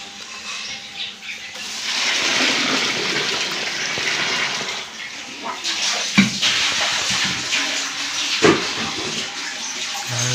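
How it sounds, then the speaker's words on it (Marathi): Water bubbles and churns in a steady rushing boil over a wood-fired stove, with a few knocks and clanks near the end, while processing black pepper. "पाणी तर उकडतं आहे चांगलं मस्त"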